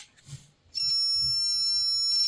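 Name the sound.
HGL-400 voltage tester beeping on mains voltage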